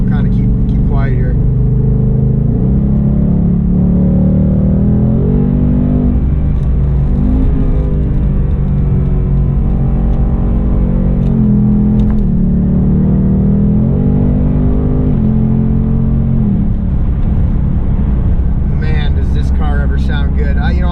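A 2018 Ford Mustang GT V8 with active exhaust set to track mode accelerates on a highway, its loud engine drone rising and falling through several gear-like sweeps across the whole stretch, with no talking over it.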